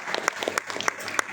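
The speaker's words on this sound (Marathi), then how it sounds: "एकदा जोरदार तिच्यासाठी टाळ्या वाजवूया" An audience at a Women's Day one-woman stage show about Dr. Rakhmabai Raut breaks into applause. Sharp individual claps stand out over a continuous bed of clapping.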